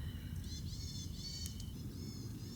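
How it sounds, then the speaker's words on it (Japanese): Faint, high bird chirps in short bursts, heard at a distance over a steady low outdoor rumble. "この鳥の鳴き声が"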